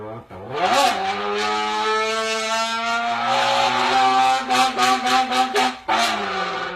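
A voice imitates a revving car engine, pitch rising and dropping as if shifting down from third to second gear, ending in choppy sputtering bursts.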